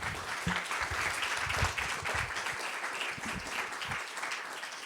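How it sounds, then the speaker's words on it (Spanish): Audience applause following a conference conversation, steady dense clapping from a seated crowd that holds at moderate level for about five seconds without talk. "Un aplauso para Paula, por favor."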